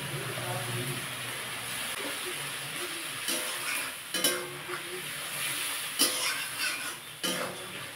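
Tomato paste fries with onion paste for a rohu fish curry, giving a soft steady sizzle. Scraping stirs and clinks of a spoon against the pan punctuate it, and a voice speaks faintly.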